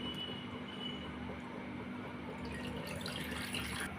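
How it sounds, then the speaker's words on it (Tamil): Tender coconut water poured into a pan makes a steady, continuous liquid rush and splash, fairly quiet and unbroken for the whole stretch with no voices. "இப்போ ஒரு பேன் எடுத்து வச்சுருக்கேன். அதில் அந்த இளநீரோட தண்ணியை சேர்த்துக்கலாம்."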